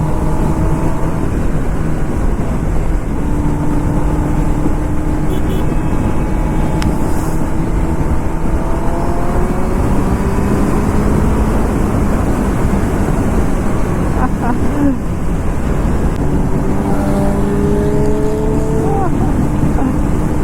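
A Kawasaki ZX10R motorcycle ridden at speed on an open road near Chandannagar, with loud continuous engine drone and rushing wind, the engine pitch rising and falling as it accelerates, and a rider's voice faintly under the roar.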